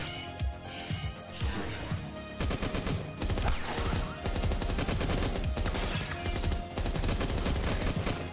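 Rapid automatic gunfire from a weapon in Beyond Sunset rattles out in fast, loud, sustained bursts with a very high firing rate and brief breaks between strings of shots.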